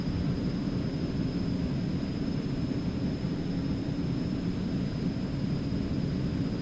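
Eclipse 550 business jet in the X-Plane 11 flight simulator, a steady, moderate cabin roar of engine and airflow with a faint high whine, unchanging throughout with no speech.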